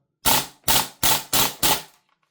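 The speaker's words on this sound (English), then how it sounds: "So short bursts are okay with this, but if you want to dump a mag, unless you're in some really warm weather." An Archwick APC9K gas blowback airsoft gun fires five short, evenly spaced bursts, each a sharp, loud crackle of rapid shots with brief pauses between, alone with no talk.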